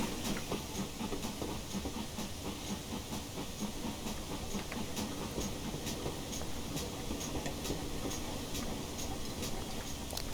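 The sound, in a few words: GWR 6000 King Class steam locomotive chuffing, Train Simulator Classic video game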